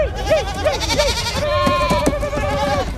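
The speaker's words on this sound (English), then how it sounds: "Freeing a bunch of goats was just too much fun, I guess" Several goats bleat in quick succession in a scene from the Loki series, their wavering cries overlapping against a busy background of other noise.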